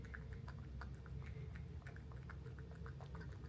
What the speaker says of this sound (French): s'il y a des bruits d'ASMR de mangeage derrière, c'est parce que Mimi elle mange